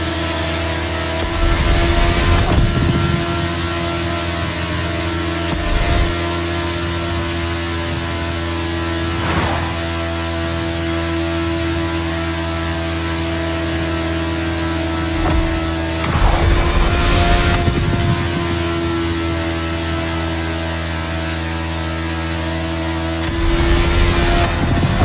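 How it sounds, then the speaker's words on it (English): The world's fastest production motorcycle, topping out near 190 mph, is ridden in the racing video game The Crew Motorfest. Its engine holds a steady, loud, harmonic drone, broken by several sharp rev surges and gear changes. "It is still the world's fastest production motorcycle at around 190 miles per hour top speed"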